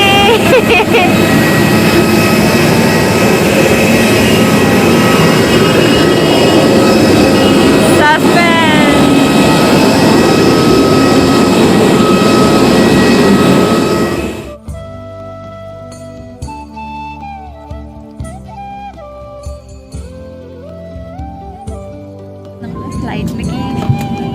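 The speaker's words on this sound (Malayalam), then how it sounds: "ഫ്ലൈറ്റ് ടേക്ക് ഓഫ് ചെയ്യാൻ നിൽക്കുകയാണ്" Loud steady roar of IndiGo airliner jet engines before takeoff fills the first half, then drops away to quieter cabin noise with scattered tones and clicks.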